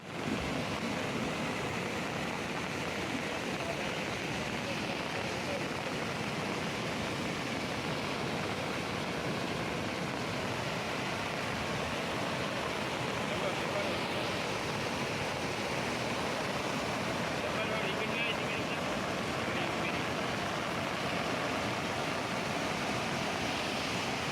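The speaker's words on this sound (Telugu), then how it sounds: "జైనాథ్ మండలం పుసాయి వద్ద వాగు ఉధృతంగా ప్రవహించడంతో ప్రముఖ పుణ్యక్షేత్రం ఎల్లమ్మ ఆలయం జల దిగ్బంధంలో చిక్కుకుంది" A flooded stream rushes strongly after heavy rain near Pusai in Jainath mandal, where it has surrounded the Yellamma temple. The water makes a dense, unbroken roar that holds loud and steady throughout, with no voices.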